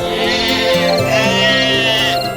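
Sheep bleat loudly and close by, one long sustained wavering bleat running into another with no talk over them.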